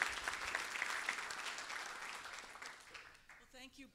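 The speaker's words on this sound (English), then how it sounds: "Let's have a round of applause before they get started." Audience applause at a panel session of a Boston action clinic, a dense burst of clapping that fades over a few seconds before a voice begins speaking.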